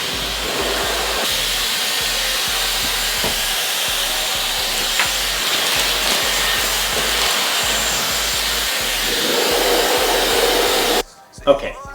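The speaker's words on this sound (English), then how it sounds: "I have a Dyson blow dryer." A Dyson blow dryer with its diffuser removed blows hot air in a loud, steady, close roar that runs unbroken for about eleven seconds before cutting off abruptly.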